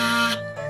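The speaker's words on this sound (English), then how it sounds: "you can't like put the kazoo too much into your mouth, or else it'll sound like this" A kazoo is pushed too far into the mouth, giving a short dull buzzing tone with a steady low pitch that cuts off after a fraction of a second.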